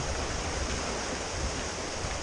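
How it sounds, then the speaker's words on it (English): Water pours steadily out of a canal lock through opened gate paddles into the pound below at Watford staircase locks, a continuous broadband rush that stays loud and close with no talking. "The water is flowing into the pound between locks 3 and 2."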